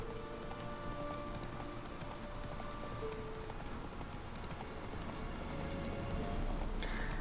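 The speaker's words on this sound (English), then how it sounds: "I'll take this horse, I suppose." Horse hooves clip-clop steadily in The Witcher 3, a continuous galloping rhythm of hoof strikes against background game sound, fairly quiet throughout the ride.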